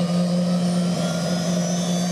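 A helicopter-derived turbine engine powering a very fast superbike with a two-speed automatic gearbox, a steady loud whining hum with a constant tone and no breaks or talking.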